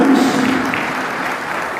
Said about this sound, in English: If you would give them a round of applause, please.